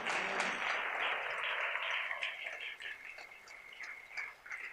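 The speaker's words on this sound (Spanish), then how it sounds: "Dele palmas al Señor con todo su corazón" A church congregation clapping for the Lord, a dense burst of applause that thins and fades, with voices mingling in the crowd.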